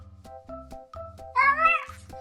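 A cat gives one loud, close, drawn-out meow over a steady, rhythmic, pulsing background.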